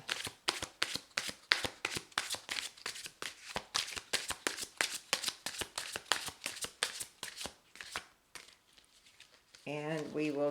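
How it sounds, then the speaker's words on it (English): Tarot cards shuffled rapidly by hand, a long run of close, crisp slapping riffles in an even rhythm for about eight seconds, then a pause before a voice begins speaking at the end. "I'll shuffle 1 more time,"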